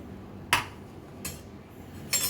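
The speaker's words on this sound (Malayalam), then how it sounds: "അപ്പോൾ ഇത് നമ്മൾ മൺകലത്തിലേക്ക് നമ്മൾ ഈ അരിഞ്ഞ് വെച്ച വെള്ളരി പീസുകൾ ഇട്ട് കൊടുക്കണം." Chopped cucumber pieces drop into a clay pot for a Kerala buttermilk curry, landing as three brief, separate soft knocks spaced under a second apart against a quiet kitchen background.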